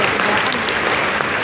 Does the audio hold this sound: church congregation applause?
yes